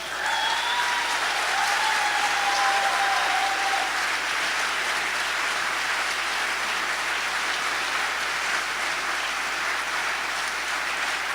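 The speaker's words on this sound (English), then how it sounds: "Let's just have one more round of applause for everybody that spoke today" A round of applause from the audience for the speakers at a farm education program event: continuous, even clapping from many hands holding at a steady level for about eleven seconds without a break.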